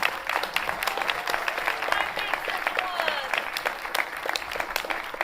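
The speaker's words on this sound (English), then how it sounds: "So can we give David a round of applause, please?" Applause from an audience at a youth development event in Long Beach, steady and dense clapping throughout with scattered voices mixed in.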